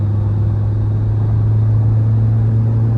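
Mahindra Scorpio N and XUV 700 racing side by side in a drag race at high speed, giving a loud, steady, close engine drone with deep rumble and no talk.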